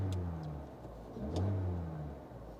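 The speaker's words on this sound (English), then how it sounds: "I'll give it some gas" A parked car's engine revs up twice as the gas pedal is pressed during an OBD2 scanner check, each rise swelling and falling back toward idle, close and steady with no talking.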